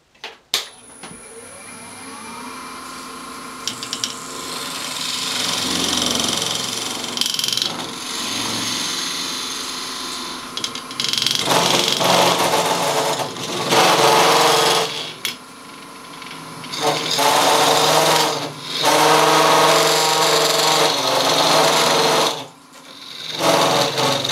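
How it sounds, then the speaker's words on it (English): A wood lathe spinning as a wooden goblet is hollowed without a steady rest, a steady motor whine broken by loud bursts of tool cutting and chatter, close and without speech. "Let's start with seeing how it works hollowing out this goblet without the steady"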